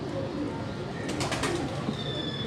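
A pigeon on a Karachi rooftop gives a brief, soft coo, close and clear against steady background hiss, with no talking.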